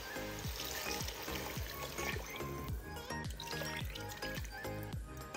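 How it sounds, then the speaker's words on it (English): About seven cups of water pour into a pot of chicken vegetable tortellini soup, a quiet, continuous splashing trickle that runs steadily throughout. "And to this, I'm going to add about 7 cups of water."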